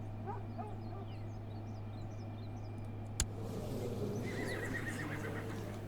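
An old, sick horse beside a worn-down tent with a few sheep in Crusader Kings 2 whinnies in a few rising calls, over a steady low hum with faint clip-clop and a single sharp click midway.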